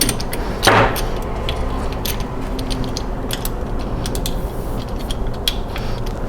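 Dewalt 5-in-1 hacksaw being loosened and adjusted by hand, giving close mechanical creaks and small clicks with one brief louder rattle near the start.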